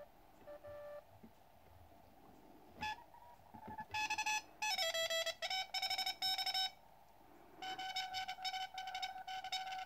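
Morse code CW signals received on a QCX Mini transceiver: thin tones keyed in dots and dashes over a faint hiss of band noise, one station weak early and a stronger one keying steadily later.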